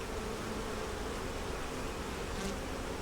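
Honey bees buzz in a dense, continuous drone from inside a productive beehive holding brood, honey and nectar, close and steady throughout.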